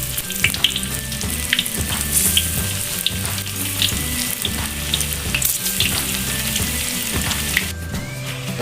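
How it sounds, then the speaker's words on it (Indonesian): Tempeh frying in oil for a Minang-style Padang balado dish, a steady close sizzle and crackle throughout, with faint clinks and stirring and a brief watery sound near the end. "Kita goreng tempe terlebih dahulu ya Bunda."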